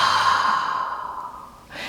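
A slow, deep breath out, steady and close, fading over about a second and a half before a short fresh intake at the end, with no talking.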